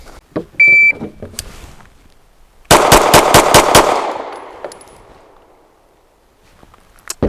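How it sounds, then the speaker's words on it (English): A double stack 1911 pistol fires six rapid shots at a shooting range, a loud close string of sharp cracks packed into about a second, ringing off afterward, with faint beeps and small handling noises before it. "So look at that, 6 shots in about a second."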